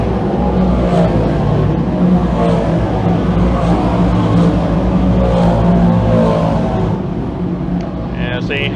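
Dirt 358 modified race cars roar down the front straightaway at a dirt speedway feature, a loud, continuous engine drone with layered passing cars and crowd-level background noise throughout.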